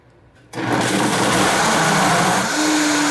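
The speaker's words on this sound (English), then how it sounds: "Just turn the blender on." A blender whirs into a vegan caramel smoothie with ice cubes, switching on abruptly after a quiet moment and then roaring loud and steady, the motor pitch shifting slightly as the ice breaks down.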